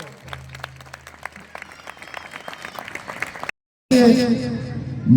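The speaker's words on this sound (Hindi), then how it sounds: "जोर से ताली बजाओ भाई, दोनों हाथ उठा के भरपूर ताली गीता जी के नाम पर" Audience at a Gita Jayanti festival at a Swaminarayan temple clapping in scattered, uneven bursts over a low hum for a few seconds, before a sudden cut to a louder, different sound.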